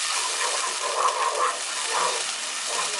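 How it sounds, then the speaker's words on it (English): Sofrito frying in hot oil for Puerto Rican beans gives a steady, dense sizzle and hiss that holds evenly throughout, close and loud, with no talk over it. "once the oil is heat up, I'm going to put in some sofrito to fry it up"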